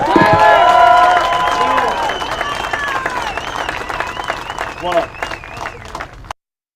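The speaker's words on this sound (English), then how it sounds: "So round of applause to him again, please." Audience at a convoy driver meeting bursts into loud applause and cheering, dense clapping with whoops that starts strong and slowly fades before cutting off abruptly.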